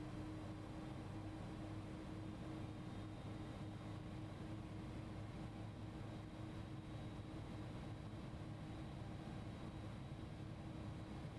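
An Airbus A300's engine 1 spools up in X-Plane 11, a steady broadband roar with a constant low hum and a faint high tone running unchanged throughout, no voices.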